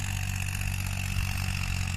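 A farm tractor's steady low engine idle rumbling continuously at close range, with a constant mechanical hum and no voices.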